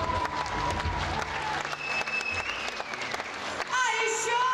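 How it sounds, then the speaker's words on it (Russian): An audience at a concert claps continuously through the whole stretch, with faint crowd murmur and music-like tones beneath the applause. "Мужчины, надо аплодировать за вас."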